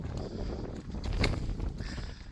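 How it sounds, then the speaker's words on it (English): Wind gusts buffet the microphone outdoors on a farm on a rainy day, a low rumbling roar that swells and fades with no voice present. "if you can't hear me over the wind, I apologize"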